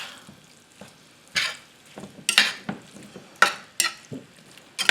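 Sloppy joe ground beef and tomato sauce in a pan, a soft steady sizzle broken by repeated loud scraping clicks of a spoon stirring the mixture, with no talking.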